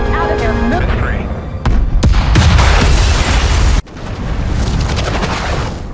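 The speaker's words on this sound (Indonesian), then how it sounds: "Beberapa bom dijatuhkan" Bombs dropped in the sci-fi war film The Tomorrow War blast in loud, heavy booms, with a deep rumbling roar that cuts off abruptly and then swells again into a continuous thunderous wash.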